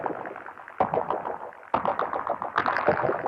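A synth plays a looped heartbeat waveform stretched into a gnarly, distorted, echoing texture, with rough rhythmic pulses and sharp attacks repeating roughly every second, fairly quiet and without speech.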